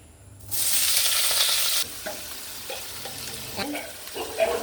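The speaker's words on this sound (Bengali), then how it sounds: "যে বিট আর বিনস আর গাজর কেটে রেখেছিলাম সেটা এবার ভালো করে ভেজে নেবো" Chopped beetroot, beans and carrot hit a hot pan for fried rice, setting off a loud hissing sizzle that then settles into softer frying, with a few light stirring clicks.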